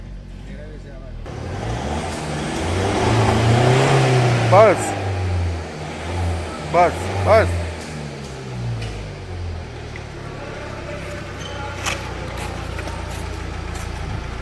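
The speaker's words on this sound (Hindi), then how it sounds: "इंजन में से कट कट साउंड आ रहा है" A Tata Safari Storme with a check light, no pickup and a knocking engine revs up and settles back to idle, a close, loud rumbling run with a rising swell and some sharp bursts, while someone speaks briefly.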